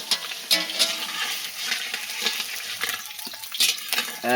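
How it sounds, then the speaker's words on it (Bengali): Potatoes sizzle as they fry in a pan for a mixed vegetable dish with cauliflower, with scraping stirring strokes and small clinks, close and moderately loud. "আলুগুলো ভেজে নেওয়া হচ্ছে"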